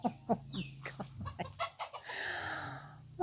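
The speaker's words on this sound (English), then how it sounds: "there were roosters there that I couldn't see when I was walking, and I startled them" Startled roosters cluck and squawk in quick bursts close by, a flurry of agitated calls fading into a rustle before another loud squawk at the end.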